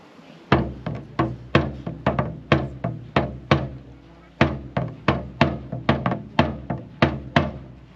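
A military drum beats the get-out-of-bed call, a loud, close, steady run of sharp strikes in quick pairs and short rolls, with a brief pause before the pattern picks up again.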